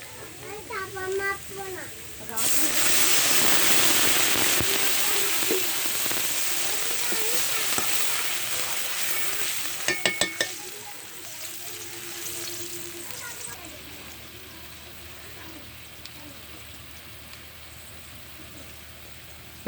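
Water is poured into hot fried ginger and spices while cooking goat meat curry; a loud hissing sizzle bursts up, then slowly settles into a softer bubbling while a voice chatters nearby.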